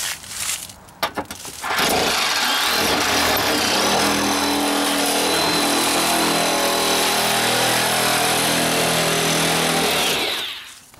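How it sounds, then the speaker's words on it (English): Milwaukee M18 cordless metal cutting shears (model 2635, 18-gauge) slicing through a car's front fender sheet metal: a loud, steady electric motor whine with grinding cut noise runs continuously for about nine seconds after a brief start, then stops. "I'm going to use the M18 to go ahead and slice through this front fender"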